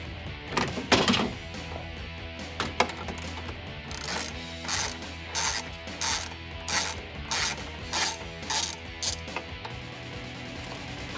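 Screws being worked out of the grille of a 2016-2021 Toyota Tacoma SR5 with a 10mm tool, giving a run of close, repeated metallic clicks and ratcheting ticks at a steady rhythm, with no talking.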